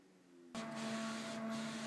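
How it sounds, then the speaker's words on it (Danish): A photo printer prints a picture sent from an iPhone, starting abruptly after a quiet hum and settling into a steady, loud mechanical whir with a constant tone as the paper feeds out. "Her kan vi se, at billedet langsomt kommer ud fra printeren."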